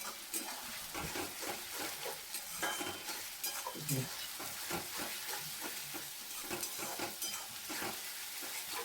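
Onions being stirred in hot oil over a high gas flame, with a steady loud sizzle and repeated scraping strokes of a spoon against the pan throughout, no talking.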